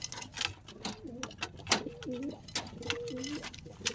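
Soft, repeated cooing from a nearby bird, several low throaty phrases with brief pauses, set against faint background noise and scattered clicks.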